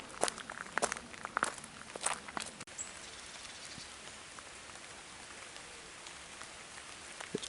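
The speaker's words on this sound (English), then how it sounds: "It's trying to proper rain now." Steady rain pattering on leaves and ground during a walk under trees on the Norfolk Broads, with clear crunching footsteps in the first few seconds, then softer rain hiss and scattered drips continuing alone.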